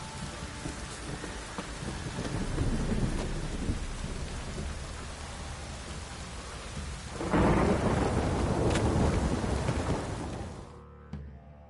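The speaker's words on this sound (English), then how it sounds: "Downpour this is." Steady heavy rain pours throughout in the video game The Witcher 3, with a loud rumble of thunder swelling midway before the sound cuts off near the end.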